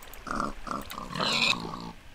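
A pig at a pig-racing setup grunts and oinks in a run of short, nasal bursts, fairly close and moderately loud, rising to a squealier peak before easing off.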